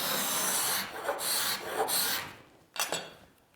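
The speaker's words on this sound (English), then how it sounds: "I chose to do this initial scraping process before gluing the molding together" Hand scraper rasping along a wooden crown molding bead to smooth it, several steady rubbing strokes close up, then a brief pause and a final short scrape.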